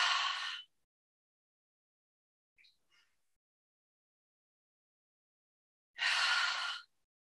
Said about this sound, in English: Taking another couple of cleansing breaths here, inhaling through the nose and exhaling through the mouth.